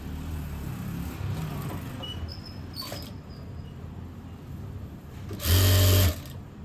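Sewing machine stitching the belt of a tulip salwar, a steady fast whirring run of the needle for about a second near the end, loud and close against a quiet background.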